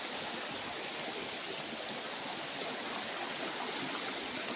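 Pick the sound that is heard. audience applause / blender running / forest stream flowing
forest stream flowing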